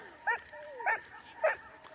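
Sled dogs of an Iditarod team at the Tolsona Lake checkpoint on a night at -40°F give three short, clear barks or yips, evenly spaced about a second apart, moderately distant in a quiet snowy setting.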